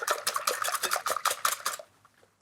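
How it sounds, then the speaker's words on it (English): Egg yolks are whisked briskly in a bowl, a rapid run of close rhythmic clinks and scrapes that stops abruptly near the end. "crack those egg yolks and give that a really good whisk so everything's combined"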